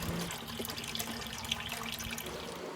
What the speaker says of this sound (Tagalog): Kailangan lang hugasan ng eggshell para mawala man kung anong mga virus ang nandito.